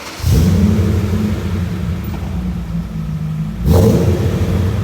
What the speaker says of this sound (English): all of that noise coming in from the V8 engine